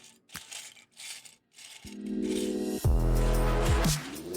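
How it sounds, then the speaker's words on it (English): Lego pieces for a Star Trek Enterprise D model rattle and clatter as they are sorted, first as light scattered clicks and then as a louder, continuous shuffling of many plastic bricks. "Here, some Lego ASMR."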